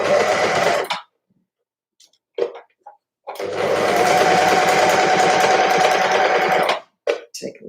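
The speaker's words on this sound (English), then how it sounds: "I'm lifting my presser foot up and popping the seam underneath the foot" A sewing machine stitches the underarm seam of a sweater in two loud, steady runs, a short burst and then a longer continuous whir, with small handling clicks between them.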